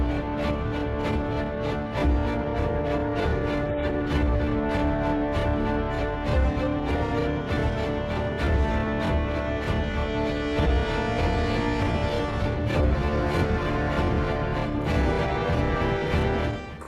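Music from the racing video game Project Cars runs as a driving, full-bodied track with a steady rhythmic pulse, holding an even, moderate level throughout with no voices over it.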